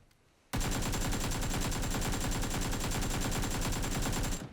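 Sustained automatic gunfire in PUBG starts abruptly after a brief quiet moment, then holds as a rapid, evenly spaced, loud stream of shots until it cuts off at the end.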